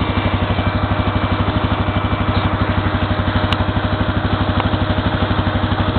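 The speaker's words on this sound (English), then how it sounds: "That's a cool combine. It's I want one of those. It's got a Cummins inline 8 engine in it." A combine harvester's Cummins inline eight diesel runs steadily close by, a low, even, rapidly pulsing throb with mechanical clatter and no talk.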